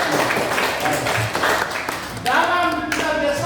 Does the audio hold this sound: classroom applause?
yes